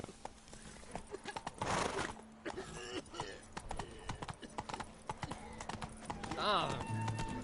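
Roach the horse's hooves clip-clop along in The Witcher 3, a steady trotting beat of close, dull knocks, with a whinny near the end and game dialogue voices talking over it.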